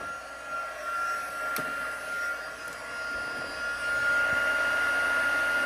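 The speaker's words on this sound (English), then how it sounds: "Heat up our tool." A heat tool for card embossing blows a continuous, close, even whirring hiss, like a small hair dryer, steady from start to finish with faint taps of handling.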